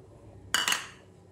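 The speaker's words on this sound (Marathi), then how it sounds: "आता त्यामध्ये कांदा हा चिरून टाकूया" Chopped onion tipped into a pan of cooked dal gives one short clattering splash with a faint metallic clink, close and fairly loud against quiet, then fades quickly.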